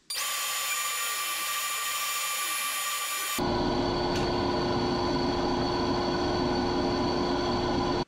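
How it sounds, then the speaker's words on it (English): A jointer runs close and loud, first as a high whine and then with a denser, rougher roar as a figured maple board passes over the cutter head to be flattened. "I'll run this on the joiner, flatten it up, and then put it in the planer"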